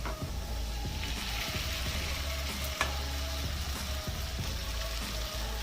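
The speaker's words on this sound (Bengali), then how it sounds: "কাজু বাদাম কিশমিশটাকে আমি গাজরের সঙ্গে ভালো করে ভেজে নেবো" Soaked sago frying in a pan with carrot, cashews and raisins over low gas, a soft continuous sizzle with occasional stirring scrapes and clicks beneath a steady low hum.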